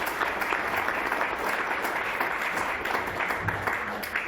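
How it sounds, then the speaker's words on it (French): Council members applaud a newly elected vice-president at a community council session, a continuous even patter of many hands clapping in a room, steady from start to finish without speech. "je vous propose de l'applaudir"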